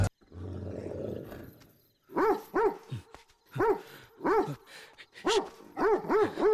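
A Great Dane dog in a movie barks in a rhythmic run of deep, loud, resonant woofs, preceded by a low rumbling growl-like sound, with short pauses between bursts of barking.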